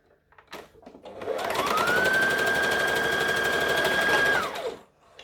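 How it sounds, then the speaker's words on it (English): Close by, a sewing machine runs in a single steady whirring burst of about three seconds, joining Halloween costume fabric into a loop, ramping up and winding down with faint handling noise on either side. "So sew it together so it's now a loop."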